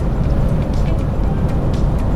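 An old car engine that had sat unused in the sun for a long time, running with a loud, steady, close rumble throughout.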